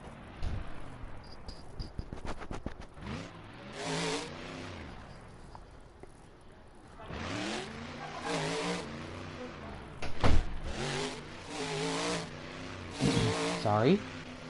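Engine of the Felon monster truck in the Monster Jam video game, revving in repeated surges with tire noise, loud and close, with a person talking over it.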